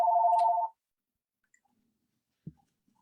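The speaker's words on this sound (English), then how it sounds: "Sorry, that's my phone." A mobile phone ringtone gives a short, clear electronic tone for under a second in a quiet room, followed by near silence and a single soft click.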